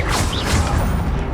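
The Incendio fire spell is cast in the video game Hogwarts Legacy: a dense, roaring whoosh of flame that fills the short moment, loud and close with no talk over it.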